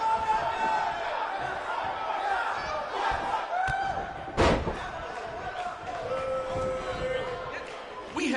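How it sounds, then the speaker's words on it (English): A sold-out, record-setting crowd fills a BCW wrestling arena in a career-mode video game, its steady roar running throughout, broken by a loud slam or thud about halfway through. "We have a sold-out, record-setting crowd here for BCW tonight"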